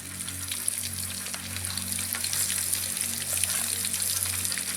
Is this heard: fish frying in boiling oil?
yes